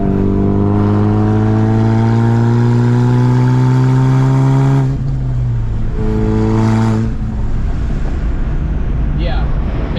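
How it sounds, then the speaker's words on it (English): A warmed-up Formula D Mustang drift car engine idles loudly and close, a steady deep droning rumble with strong harmonics that dips briefly midway, then settles back to a rough, even idle. "the car is up to temp already, and it seems like it's running great"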